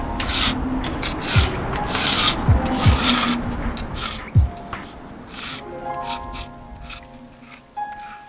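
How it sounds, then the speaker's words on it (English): Scraping marine growth off the bottom of a small yacht's keel, a steady rasping rub with a few sharper scrape strokes, close and moderately loud throughout. "Just getting the marine growth off the bottom of the keel so we can make it a flat surface to draw our template."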